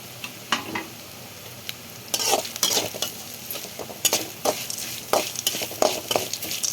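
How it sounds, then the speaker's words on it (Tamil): Grated coconut is stir-fried in a pan for coconut rice, a soft steady sizzle broken by frequent close scrapes and metallic clinks of a spoon against the pan. "தேங்காயை வந்து கொஞ்சம் நல்லா வதக்கினோம்னா டேஸ்ட் நல்லாயிருக்கும்"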